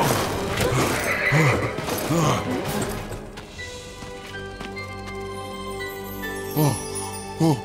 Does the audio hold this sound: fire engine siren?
no